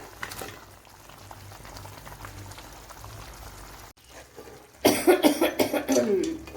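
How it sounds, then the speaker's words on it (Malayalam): Chicken pieces drop into hot, clear oil in a pan for a Mangalore-style chicken curry, a quiet stretch giving way to a sudden loud burst of sizzling and bubbling that pulses for the last couple of seconds. "ഇതിലേക്ക് നമ്മുടെ ചിക്കൻ ചേർത്ത് കൊടുക്കാം"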